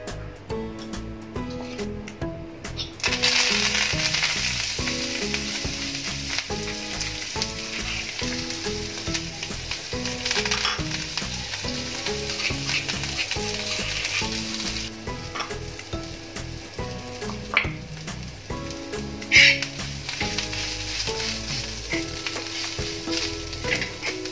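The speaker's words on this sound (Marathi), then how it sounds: "मी त्याच तव्यावरती तेल तापत ठेवलंय, आपण हे घालूया त्याच्यामध्ये।" Green chillies fry in hot oil on a flat griddle for thecha, a dense crackling sizzle that starts abruptly and carries on loud and steady with repeated scraping stirs, close up and without talk.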